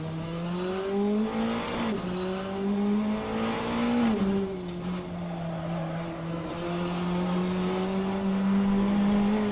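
Race car in a LOR Speed Night racing sim with soft tires and dampers needing work, its engine droning loud and steady, with pitch dips and jolts around two and four seconds as it rides over curbs.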